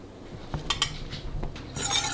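A whisk scrapes and clinks against a pan as Parmesan cheese is stirred into a simmering sauce, giving soft metallic taps and brief rattles that grow into a denser scraping near the end.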